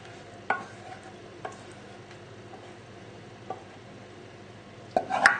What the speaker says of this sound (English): Now take your pie dish and just spoon it into the dish.